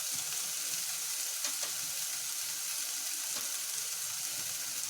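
Red chilli powder, coriander powder, salt and garam masala are stirred in a pan for a vegan stuffed mushroom gravy, a steady close sizzle with soft scraping throughout.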